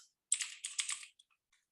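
A short burst of quick, crisp clicks from a computer keyboard, a handful of close keystrokes in rapid rhythm followed by a couple of isolated taps and silence.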